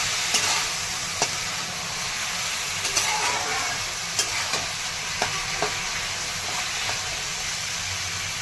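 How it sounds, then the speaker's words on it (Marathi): Potato and ridge gourd fry in a pan with a steady, close sizzle, broken by a few sharp spatula taps and scrapes as the vegetables are stirred, with no voices. "आता हे बटाटा दोडकं हे छान परतलेलं आहे"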